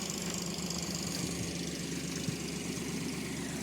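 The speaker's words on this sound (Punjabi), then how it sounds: "ਆ ਟਰੈਕਟਰ ਚੱਲ ਰਿਹਾ ਜੀ ਪਾਣੀ ਕੱਢ ਰਹੇ ਨੇ ਕਿਸਾਨ" A tractor engine idles and chugs steadily while pumping water out of a rain-flooded paddy field, a continuous low rumble with a faint knocking texture, no voices.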